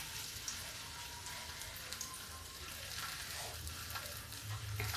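Puri for a fasting meal frying in hot ghee or oil on high flame, a continuous soft crackling sizzle like light rain, steady and fairly faint, with no voices.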